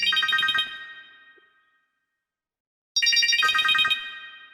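A telephone ringing indoors in a Pakistani drama scene: two loud bursts of electronic trilling bell, about a second each, separated by a long silent pause, with no voices.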